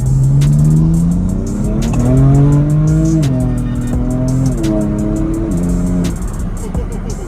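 BMW M4 with a DCT gearbox accelerating hard down a drag strip, engine note climbing loud and close through several upshifts, each gear change dropping the pitch before it rises again.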